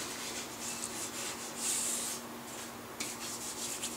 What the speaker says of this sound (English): Just using my hands to start kind of rubbing it in.